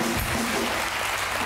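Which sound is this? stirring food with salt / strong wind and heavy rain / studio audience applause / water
studio audience applause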